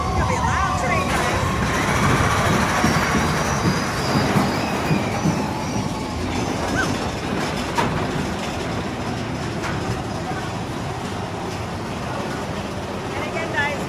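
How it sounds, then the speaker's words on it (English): A Disneyland train ride rumbles loudly with a constant rolling roar, clickety-clack of wheels and occasional squeals, with voices faintly mixed into the noise. "It's gonna be a loud train ride."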